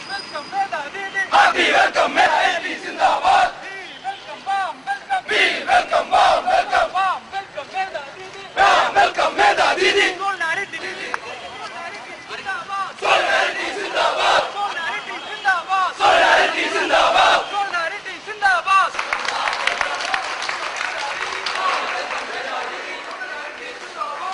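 A crowd at a reception rally in Kerala shouts zindabad slogans in repeated bursts, with clapping and chatter between the rhythmic chanted waves, loud and echoing throughout.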